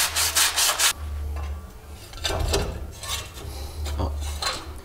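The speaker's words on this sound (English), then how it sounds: "You can give this a little wipe down with some 60 grit." Coarse 60 grit sandpaper scrubs over a Nissan Titan front-end part in several bursts of rough rubbing and scraping, close and fairly loud, with a low hum beneath and no talking.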